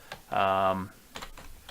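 Keys tap on a computer keyboard as someone types into a website form, producing a few short, crisp clicks alongside a brief voiced sound in the middle.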